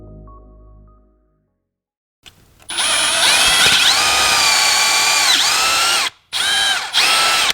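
A power drill with a grease-coated bit bores into metal on a BMW, whining loudly and steadily for about three seconds, briefly cutting out, then resuming close up, with no talk.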